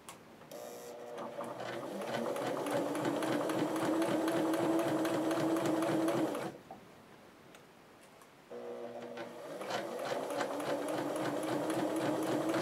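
Sewing machine stitching a straight seam along fabric, a steady fast mechanical whirr that runs continuously, pauses for about two seconds, then resumes, close and alone with no talk.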